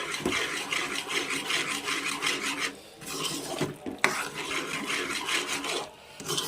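A spoon scrapes and stirs thick Mysore pak mixture in a pan, producing rhythmic rasping strokes that run almost continuously, broken by two brief pauses, close and clear with no talking.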